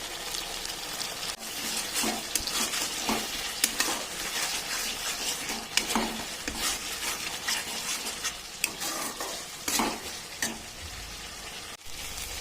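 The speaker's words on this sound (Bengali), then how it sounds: "আমার মশলাটা ভালো মতন কষানো হয়ে গেছে" Spices and meat masala being fried and stirred in a pan for a bhetki fish dish, a continuous close sizzle broken by frequent sharp scrapes and knocks of the spoon against the pan.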